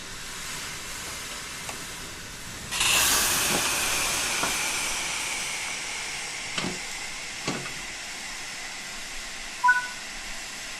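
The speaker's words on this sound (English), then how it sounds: "To allow passengers to board, you'll need to open the doors." Train doors open in Train Simulator 5 with a sudden loud pneumatic hiss that tails off into steady hissing, followed by a few faint clicks and knocks at moderate distance.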